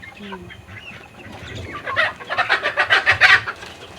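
Several chickens cluck close by, quiet at first and then building into a quick, rhythmic run of louder clucks near the end.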